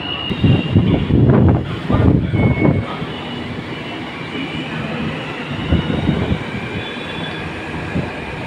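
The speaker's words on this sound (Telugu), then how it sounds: "metro train journey" A Hyderabad metro train runs close by, with a loud rolling rumble and a few surging bursts early on that settle into a steadier, quieter hum with a faint high whine over it.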